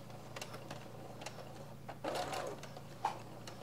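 Home sewing machine back stitching while a Christmas craft is sewn, a quiet steady mechanical whir with faint ticking, picking up in a short louder burst and then a single clack at the end.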